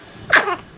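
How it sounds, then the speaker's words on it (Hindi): A single short sneeze from a woman, one sharp burst trailing off quickly, close and fairly loud against a quiet room. "ओह सॉरी, मुझे छींक आ गई"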